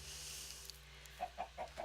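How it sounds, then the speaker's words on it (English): Minecraft chickens give a quick run of four soft clucks near the end over a faint steady hum, quiet and somewhat distant, with no one speaking. "So as we walk along, we see lots of grass. We see some chickens."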